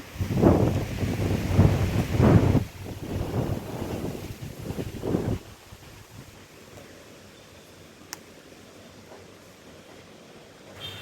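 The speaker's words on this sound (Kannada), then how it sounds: "ನೋಡಿ ಗಾಳಿಗೆ ಇದು ಪಾಟ್ ಎಲ್ಲ ಹೊರಳಾಡ್ಕೊತ ಇದೆ" Wind gusts buffet a rooftop terrace garden, where loose plant pots roll about, with strong rumbling bursts at first easing to a quieter steady rush and a single faint knock later.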